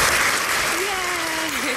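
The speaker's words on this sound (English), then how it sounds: "I'm going to give you all a round of applause." Loud, close applause opens a talk-show episode on policing, with a voice speaking or exclaiming over the clapping partway through.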